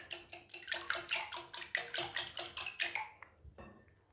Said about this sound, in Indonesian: Telur kita kocok.